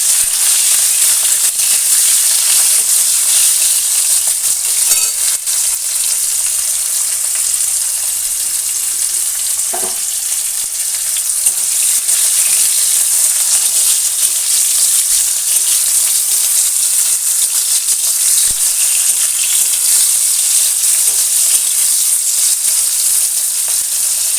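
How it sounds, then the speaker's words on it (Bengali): Cabbage, potato, onion and ridge gourd fry in a pan with a loud, close, continuous sizzle and crackle. The sound holds steady throughout, with faint stirring clicks and no voices. "বাঁধাকপিটা ভাজা হয়ে গেছে আর পেঁয়াজটা আমি আলু আর পেঁয়াজ"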